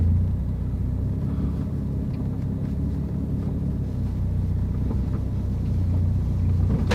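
A Renault Mégane RS makes a slow U-turn, its engine giving a steady low rumble and idle throughout, close by and continuous with slight swells in level and no talk.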